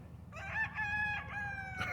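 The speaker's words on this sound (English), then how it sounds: "we got the crows out here this morning, roosters and everything else" A rooster crows in the morning, a single drawn-out harmonic call at moderate distance over low background rumble, with no talking.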